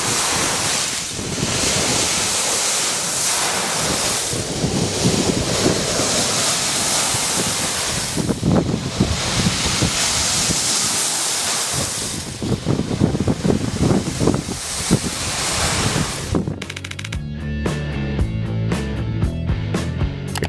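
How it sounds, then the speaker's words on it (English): Slushy waves of ice washing onto a shore roll in as a steady, loud, wind-blown surge, which gives way near the end to a sudden, different sound. "Ice waves are more pleasant to listen to than normal waves."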